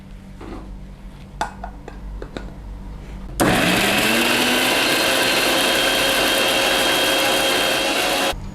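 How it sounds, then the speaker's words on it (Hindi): A kitchen mixer grinder whirs loud and steady for about five seconds, blending garlic cloves, salt and a little water into chutney paste, after a few soft clinks and handling sounds. "ये नमक डाल देंगे और इसे ग्राइंड करते हैं"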